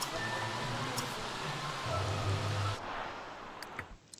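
Steady rain in The Sims 3 hisses as a broad, even wash throughout, with a low hum beneath and a few faint ticks near the end.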